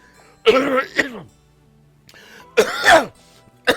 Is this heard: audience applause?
no